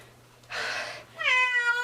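A cat meows while getting its first bath, a short hiss-like burst of splashing or breath followed by a single rising, plaintive meow, close and clear with no talk.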